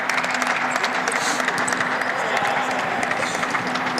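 Crowd at a Bulls versus Heat basketball game cheering and clapping after a Bulls basket, a steady roar of applause filling the arena at constant loudness throughout, with a faint tonal hum underneath.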